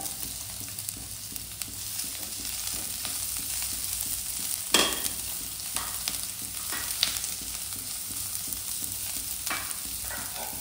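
Chopped ginger and green chili frying in a pan with a continuous crackling sizzle. Scattered stirring scrapes and a few louder clinks stand out over it.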